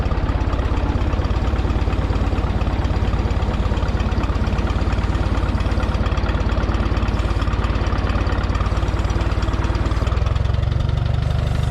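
A freshly rebuilt Minneapolis Moline U302 propane tractor engine idles close by with a rough, steady, knocking chug. It runs alone without a break, and the low rumble deepens slightly near the end.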